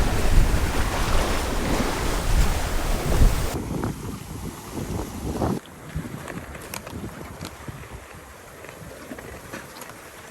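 Big waves surging and gusting wind roar around a sailboat underway through strong current, loud and continuous, with heavy microphone wind buffeting that eases after a few seconds into steadier water wash and lighter splashes.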